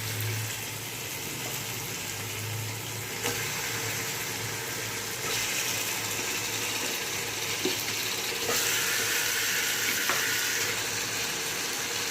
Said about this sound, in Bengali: এখন গোস্তগুলো দিয়ে দিই।